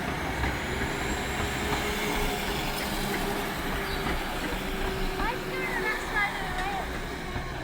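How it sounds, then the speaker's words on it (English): Class 196 diesel units 196-001 and 196-002 pull out of Shrewsbury railway station with a steady engine rumble and wheel noise, faint squeals and clatter rising near the end. "And now we see departure of 196-001 and 196-002 working the 1605 Westminster railway service to Birmingham New Street"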